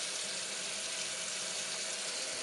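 Cold water runs steadily from a newly installed kitchen faucet into the sink, a constant broadband hiss at moderate level with no voices.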